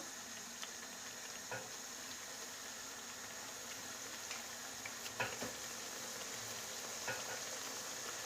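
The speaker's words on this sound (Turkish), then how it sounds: "Kızartma tavamıza yağımızı koydum ve patlıcanlarımı koyarak her tarafını kızartacağım." Eggplants fry in hot oil in a frying pan, giving a faint, steady sizzle with a few soft clinks and stirring knocks scattered throughout, no talk.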